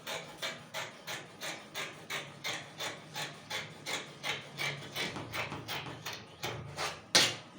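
Scissors snip through fabric for a kaftan gown in a steady run of about twenty crisp, evenly spaced cuts, close and quiet, ending in one louder snip.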